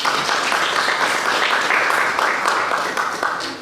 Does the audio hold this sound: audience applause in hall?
yes